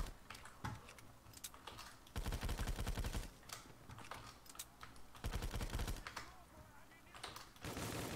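Rapid gunshots from a starter weapon in Call of Duty Zombies, a quiet game, with rattling bursts of fire in several runs between softer clicking and background noise.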